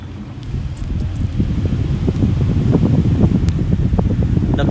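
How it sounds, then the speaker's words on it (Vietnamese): A small electric fan runs directly off a solar panel at about 20 V in mild afternoon sun, giving a steady, fairly loud whirring rush that holds constant throughout with no voices. "Rồi bây giờ mình sẽ thử bật quạt cho các bạn xem nè."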